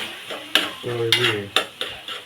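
Tomato chutney frying in a pan is stirred with a utensil, giving several scraping strokes and clinks over a soft, steady sizzle, close and fairly quiet.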